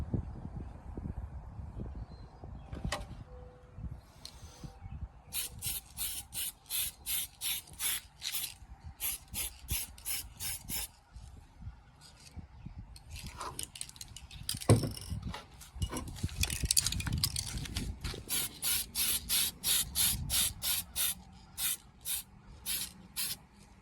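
An RC car body being spray painted outdoors, with repeated short hissing bursts from an aerosol can in an irregular rhythm, plus scattered light handling clicks and rattles between passes.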